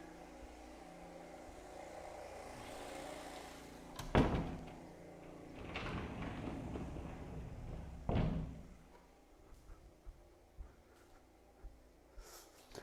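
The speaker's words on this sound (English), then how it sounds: "Just going to shut the door and make it a bit less noisy." A door is pushed shut with a couple of heavy thuds, a sharp bang near the start and another a few seconds later, with quieter rustling after.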